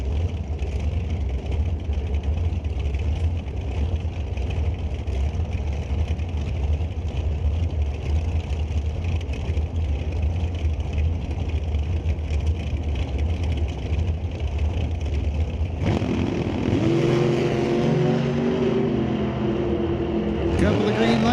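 Dragster engines roar at an NHRA Northwest National Open Series race at Mission Raceway, a dense, loud continuous rumble that shifts to a harsher harmonic growl near the end, with an announcer talking over it.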